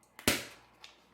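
A Pillsbury cornbread dough tube bursting open when pressed with a finger: one sharp, loud pop followed by a brief hiss of released pressure, alone without talk.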